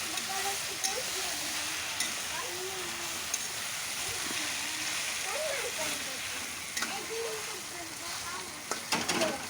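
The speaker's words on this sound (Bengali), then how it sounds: "এবার ভালো করে আমি নাড়াচাড়া করে নেবো কচু শাকটা।" Taro leaves (kochu shak) frying in oil, stirred around a pan, give a soft steady sizzle with occasional scraping clicks, while a voice talks quietly over it.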